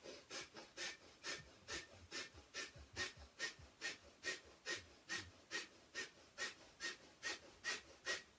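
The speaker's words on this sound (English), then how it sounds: "Then you have breath of fire." Rapid breath of fire yoga breathing during a Kundalini session, with steady forceful pumping exhales driven from the belly, about two per second, close and even, with no talking.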